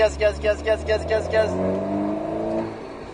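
Alpine A110 S on a track: a pulsing engine note at first, then a steady tonal drone as the car keeps accelerating, with a voice briefly over it.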